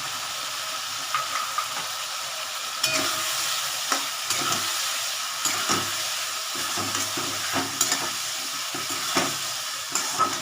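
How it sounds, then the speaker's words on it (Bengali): Spice paste for a pabda fish curry sautés in a pan, a continuous frying sizzle broken by repeated scraping stirs and light clatter, close by and with no talk. "মশলাটা সাঁতরিয়ে দিচ্ছি"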